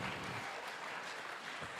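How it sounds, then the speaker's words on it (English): Brief, faint round of applause from a crowd at a children's wool event at the Golden Shears, soft steady clapping heard at a distance. "give him a round of applause again"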